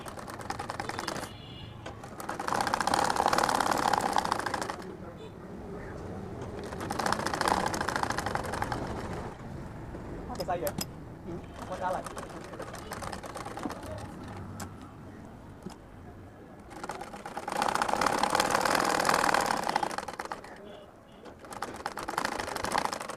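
Sewing machine stitching a pocket with a chain on an Arabian jubba, running in several sustained whirring bursts separated by pauses, close and steady, with light background noise between runs.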